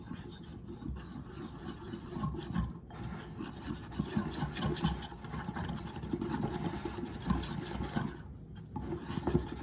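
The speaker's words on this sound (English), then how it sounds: "we're going to whisk this all together" Vanilla cake batter is whisked together in a bowl for a single-serve peach upside-down cake, producing a continuous close scraping and swishing with small uneven pulses of stirring, moderately loud and heard alone.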